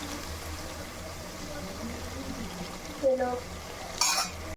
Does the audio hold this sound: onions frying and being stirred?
yes